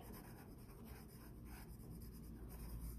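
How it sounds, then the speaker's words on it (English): A marker colors a paper roll for a hair puppet while the roll is turned by hand, giving faint, steady scratchy strokes at close range without talk. "So notice how I'm coloring and then also turning the roll with my hand."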